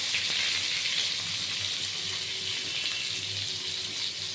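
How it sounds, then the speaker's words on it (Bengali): Steady hissing sizzle of aubergine frying in hot oil, close and continuous, with no talking. "এবার বেগুনটা আস্তে আস্তে ভাজা হবে"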